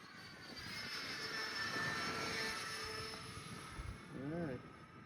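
An E-flite Airbus A320 radio-controlled model airplane makes a whining electric ducted-fan drone as it passes and comes in to land, rising and fading at moderate distance, with faint voices in the background.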